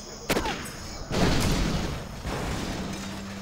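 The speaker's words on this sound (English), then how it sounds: "Particle cannon activated." A particle cannon superweapon fires in Command & Conquer Generals Zero Hour. A sharp crack is followed by heavy booming blasts and a long, rumbling energy roar that swells and then holds at a high, dense level.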